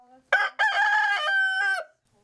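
A rooster crows loudly and close by, one full harmonic call with a short opening note followed by a long drawn-out cry, standing alone with little background noise.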